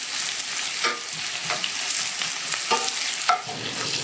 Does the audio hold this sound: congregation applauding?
no